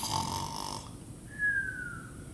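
A voice imitates snoring with a rough nasal rasp, then gives a thin rising whistle-like tone, fairly quiet and brief.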